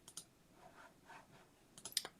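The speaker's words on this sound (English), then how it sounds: "I need my keyboard." Light, quick taps on a computer keyboard, a few scattered clicks at first, then a brisk cluster of keystrokes near the end, close and fairly quiet with no talking.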